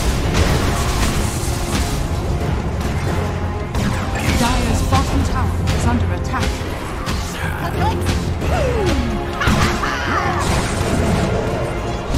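A tower collapses in a Dota 2 Ability Draft match: heavy crashing and smashing impacts with bursts and booms amid busy battle effects and continuous game noise, with a voice speaking over it.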